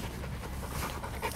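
A dog pants close by in rapid, rhythmic breaths that continue steadily without a break, fairly loud, with no talking.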